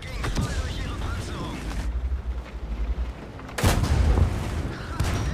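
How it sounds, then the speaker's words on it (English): Tank cannon firing high-explosive shells in World of Tanks, a sharp booming shot with rumbling low end standing out near the middle, set among other game noise and muffled distant blasts. "Shooting high explosives, by the way."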